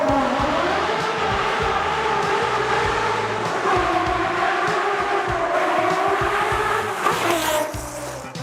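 A 1995 Ferrari F50 engine revs loudly and steadily, its harmonic note rising and falling over about eight seconds with no one talking.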